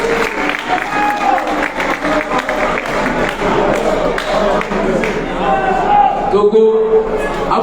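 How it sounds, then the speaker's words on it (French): A crowd at an African gathering in Paris applauds the Togo delegation with loud, uneven clapping and scattered cheers, mixed with voices and a few thumping knocks. "Le Togo, applaudissez-les s'il vous plaît."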